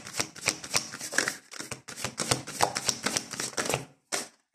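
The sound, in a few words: shuffling tarot cards for a reading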